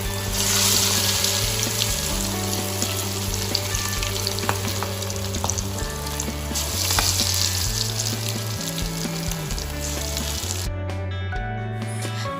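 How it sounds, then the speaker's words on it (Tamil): Marinated chicken pieces for chicken 65 deep frying in hot oil, a steady, dense sizzle that carries on for several seconds beneath background music, close and unbroken. "அதையும் நான் இப்போ பொரித்து எடுத்துக்க போகிறேன்."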